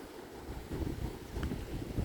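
Gusty wind buffets a microphone on Sweden's High Coast near the water, a rough low rumble swelling and easing in irregular gusts with no voices.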